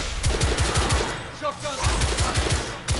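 Shotgun fire in The Order: 1886 on PS4 Pro: loud, rapid, evenly spaced shots in a long string, with a short pause midway before the shots resume.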